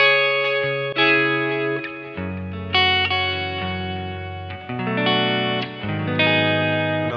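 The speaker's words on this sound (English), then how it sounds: "now I'm going to add the tape, the Studer tape machine." A studio recording of a distorted, chorused electric guitar passes through a Universal Audio Studer tape machine plug-in, sounding as a run of sustained chords and single notes with reverb, loud and alone with no talking.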